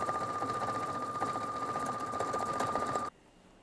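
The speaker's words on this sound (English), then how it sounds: "this is what it looks like when it's stitching out a maxi stitch." A Pfaff Expression 715 sewing machine stitches out a wide maxi stitch with a rapid, even mechanical whir and a steady motor whine, then stops abruptly near the end.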